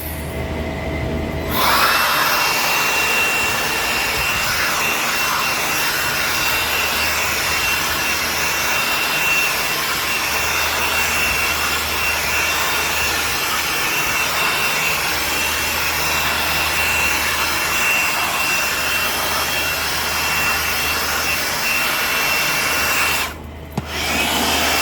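A wet vacuum roars continuously and loudly up close, sucking rinse water out of an angled coil inside an Intellipack machine during maintenance, cutting off briefly near the end.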